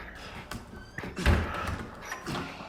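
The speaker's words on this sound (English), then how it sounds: "So let's just open the door." A door opening in the Resident Evil 4 remake, heard as a soft creak followed by a heavy low thud, with faint background ambience around it.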